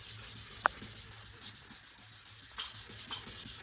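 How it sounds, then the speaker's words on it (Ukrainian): Wet sanding with 600 grit sandpaper and water on car paint, a steady soft rubbing hiss with a single sharp click early on, close and alone. "Беремо водичку, ось тут е, пробиваємо таку дирочку і починаємо матувати."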